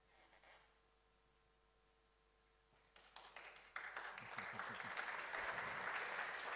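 Applause from an audience at an inaugural university lecture in natural sciences starts after a quiet lull as a few scattered claps, then builds into fuller clapping that remains fairly soft and distant.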